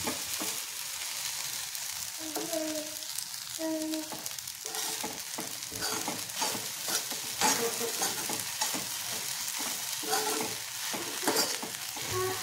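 Khichdi being stirred in a frying pan, a continuous sizzle with repeated scraping and spoon knocks in an uneven rhythm, close and fairly quiet, with no talking.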